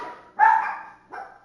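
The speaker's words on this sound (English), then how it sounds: "Shh, dogs, dogs, dogs. Be quiet, dogs." A dog gives two short, close barks, the first louder and longer than the second.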